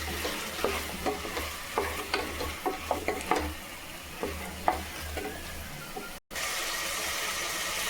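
Potatoes, onion and tomato fry in a pan for mint rice as a spatula stirs with a quick run of scraping strokes over a low sizzle, then the sizzle carries on alone after a short cut.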